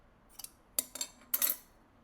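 Scissors snipping through sewing lace: a few crisp, close cuts, with a light one first and then two louder bursts of snipping, on a quiet background.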